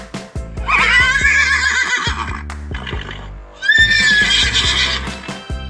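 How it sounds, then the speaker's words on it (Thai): A horse neighs loudly twice, long shrill whinnies separated by a short pause, close to the listener. "เป็นเสียงของม้า"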